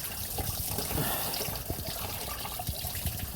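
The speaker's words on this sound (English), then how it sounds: "there will be more water coming out because we drain it only from the radiator." Coolant water drains steadily from the removed water pump of a Skoda Superb 1.9 TDI PD engine, a continuous close trickle and splash with scattered drips and no talking.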